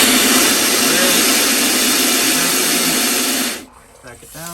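Brondell bidet toilet seat running its rear wash and nozzle cleaning, a loud close rushing water spray that holds steadily, then drops away to quieter trickling, with someone talking briefly near the end.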